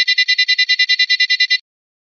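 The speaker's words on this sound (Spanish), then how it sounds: "podremos observar la alarma auditiva en funcionamiento, al momento de interrumpir el haz de luz del láser sobre la fotorresistencia" An Arduino buzzer alarm, set off when a laser beam on a photoresistor is interrupted, beeps in a fast steady pulse of about fourteen short high tones over a second and a half, loud and close, then stops.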